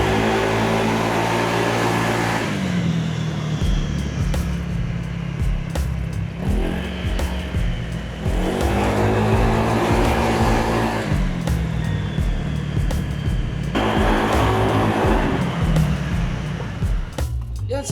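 A Honda Giorno scooter engine with an upgraded CVT runs steadily and loudly throughout, its pitch rising and falling with a few revs, with no talking.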